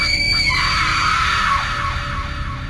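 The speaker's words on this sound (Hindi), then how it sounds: "मुंह से ऐसी चीख निकली" Women's screams from a Hindi horror story set near a graveyard in a forest, a sustained high shrill cry rising and wavering over a loud dense background rumble, with no speech.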